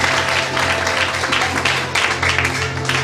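A church congregation applauds for Jesus, a sustained, dense round of clapping that fills the room at steady loudness, with a low hum and scattered voices underneath.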